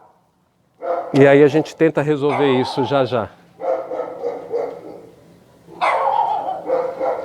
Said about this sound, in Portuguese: que o cachorro, pelo menos, ele pare um pouquinho aí com esse latido